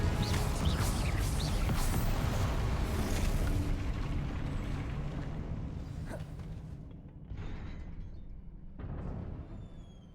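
Explosive spells cast in Hogwarts Legacy give a dense, loud rumbling blast that slowly fades, followed by a couple of shorter bursts and crackles later on.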